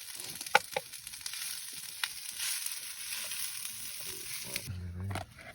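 Nasi goreng frying in a pan at a mountain campsite on Gunung Prau, a steady close sizzle with a few sharp clinks of stirring, then a brief low thud near the end.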